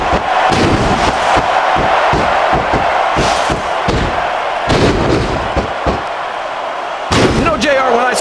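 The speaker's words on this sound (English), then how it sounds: "Listen to the crowd, JR." A roaring arena crowd in the wrestling video game WWE Smackdown vs RAW 2006, a dense continuous cheer punctuated by repeated sharp slams and impacts, loud and close throughout.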